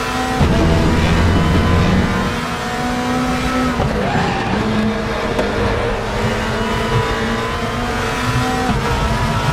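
A race car in the Raceroom racing game brakes too late into the Corkscrew, its engine droning loud and steady with a shifting pitch and tires squealing under heavy braking.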